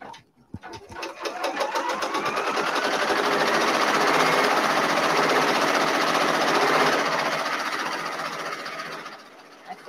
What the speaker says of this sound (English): So now it is going to start stitching.